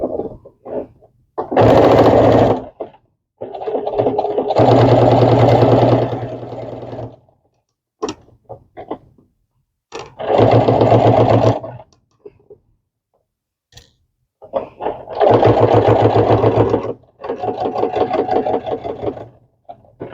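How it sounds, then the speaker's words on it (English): A sewing machine stitches a quilted Christmas pot holder in close, loud bursts of rapid mechanical ticking, each a few seconds long and separated by short pauses. "now I'm going to sew the whole thing like that"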